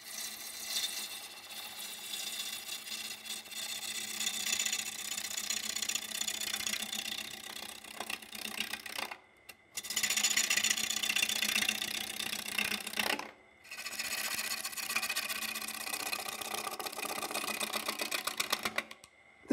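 A gouge cuts into a faceplate-mounted blank spinning on a wood lathe, a loud continuous rough scraping hiss broken by two short pauses in the cut.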